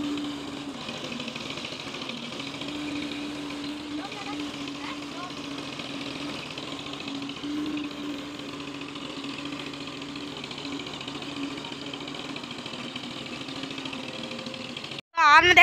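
Pulling a plank leveller across a small field being prepared for wheat in Pakistan, a tractor engine runs with a steady, even drone at moderate loudness, then cuts briefly before a burst of other sound at the end.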